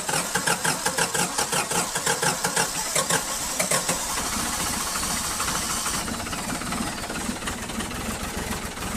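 A diesel engine cold-starts with a rapid, rhythmic cranking pulse for several seconds, then catches and settles into a loud, steady clattering idle, heard up close.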